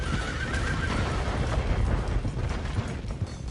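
A horse whinnies shrilly in Red Dead Redemption 2 over a dense wash of galloping hooves, rumbling gunfire and chaotic ride noise, loud and continuous.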